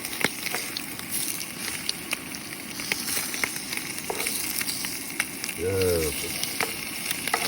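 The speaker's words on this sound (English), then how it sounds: "Good old bacon and eggs" Bacon and eggs frying on a gas cooker outdoors in high country, a close, steady sizzle with scattered pops and crackles, and a brief voice partway through.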